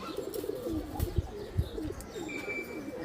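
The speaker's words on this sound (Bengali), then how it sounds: "আমি দেখাই দিই কবুতরটা।" A single tame pigeon coos softly in a fancier's loft, with low, rounded coos in a couple of brief pulses over a quiet background.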